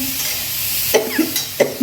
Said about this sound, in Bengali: কড়াই একটু নাড়াচাড়া করছি